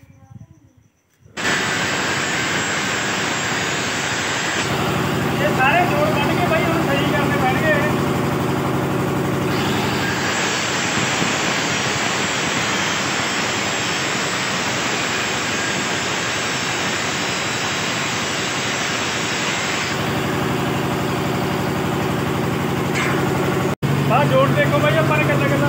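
A generator engine on a farm, set up while fitting new steering to a combine harvester, starts and then runs steadily for about 25 seconds. It gives a loud, constant mechanical roar with some broadband noise.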